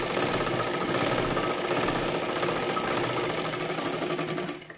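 A sewing machine runs steadily for several seconds while stitching a katori blouse, a fast, even mechanical whir and patter heard up close with no pauses until it winds down at the end.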